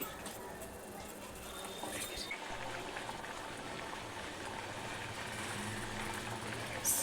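A Malvani prawn and baby shark curry simmers in a pot, giving a steady soft bubbling hiss at low level, with a voice speaking over it.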